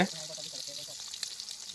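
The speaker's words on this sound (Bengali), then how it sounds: "মাছটাও আস্তে আস্তে ভাজা হয়ে যাচ্ছে" Pangas fish frying in a pan over a paper-lit village cooking fire gives a soft, steady sizzle with faint crackles, quiet and close throughout.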